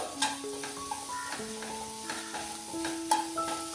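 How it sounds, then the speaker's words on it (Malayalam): Banana pieces and sugar are stirred and sautéed in a pan, giving soft scraping and light sizzling under steady tonal background music, with occasional utensil taps and no talking. "ഒരു 3-4 മിനിറ്റ് ഒന്ന് വഴറ്റി കൊടുക്കാം. പഴം ഒന്ന് നന്നായിട്ട് സോഫ്റ്റായിട്ട് വരണം."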